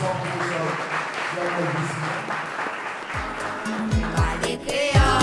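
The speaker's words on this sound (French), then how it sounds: "On applaudissement pour" Applause from a conference and debate audience, a wash of clapping that runs under a speaking voice throughout, with louder, busier sounds and voices rising toward the end.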